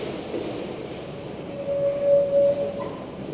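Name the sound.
train carrying rescue supplies along railway tracks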